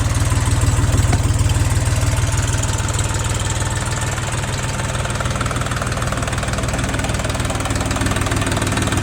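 A Scout XT-244 tractor engine idles loudly and steadily with a rhythmic knocking throb, close up and continuous.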